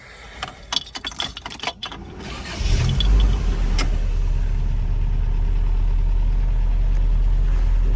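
Keys jangle and clatter close up, then a 1989 Toyota Pickup with a 22RE engine cranks and catches, settling into a smooth, steady idle hum for the rest of the clip.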